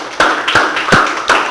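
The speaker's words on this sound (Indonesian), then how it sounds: "tepuk tangan dulu lah" Four separate claps or slaps spaced evenly at about one every third of a second, close and fairly loud, with a hollow ring to each hit. They sound like a small group clapping together at a religious study gathering, not long sustained applause.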